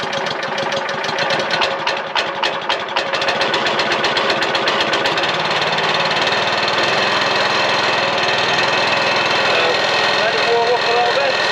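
A petrol engine on a Hansa C7 wood chipper starts and settles into a loud, steady idle with a rough mechanical rattle, running close by with no talk over it.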